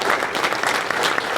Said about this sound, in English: Round of applause for Justin and Pablo and their team of Brandon.